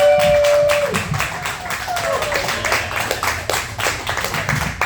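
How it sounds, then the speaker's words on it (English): A comedy show audience applauds a comedian, steady dense clapping throughout at close range with crowd noise, a short tonal sound early on. "Let's give another round of applause for Jessica Alanis, everybody!"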